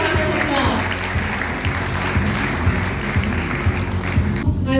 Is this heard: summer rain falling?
no